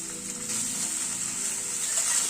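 Pointed gourd and potato sizzling in a pan with salt and turmeric, a steady, even frying hiss running close and continuous throughout.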